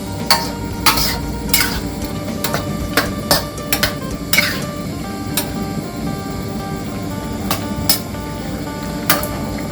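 Thai pork curry with pea eggplant being stirred in a pan: a utensil knocks and scrapes against the pan in irregular taps over a steady loud bubbling sizzle, with no voices.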